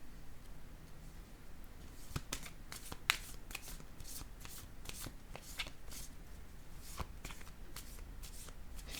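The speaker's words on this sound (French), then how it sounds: "Je vais déposer une autre carte ici." Tarot or oracle cards being handled, shuffled and placed down, giving a run of soft, close slaps and riffling flicks in an irregular rhythm, quiet overall with no talking.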